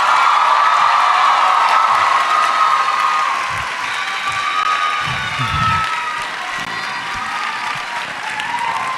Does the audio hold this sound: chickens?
no